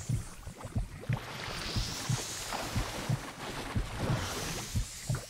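A looping heartbeat effect from the video game StarCraft 2: Heart of the Swarm pulses steadily, with low, thudding beats about once a second under a hissy, washy game ambience.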